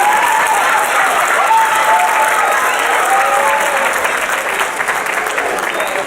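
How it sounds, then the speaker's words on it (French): An audience claps steadily for a children's performance, dense and sustained applause throughout, loud and close, with no voices over it. "On peut les applaudir, c'était pas évident."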